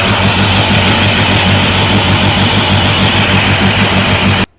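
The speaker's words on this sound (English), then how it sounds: "Play the video from when the Viper was running" A Dodge Viper race truck engine runs loud and steady at close range with a rough, pulsing idle, then cuts off abruptly at the end.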